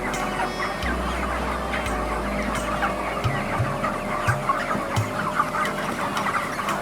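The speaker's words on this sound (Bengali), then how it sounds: "এখন আমার বর্তমান ইনশাল্লাহ এই ঘরে 2500 মুরগি আছে।" About 2,500 chickens inside a poultry farm house cluck in a dense, continuous chorus, with a low hum underneath and no voices.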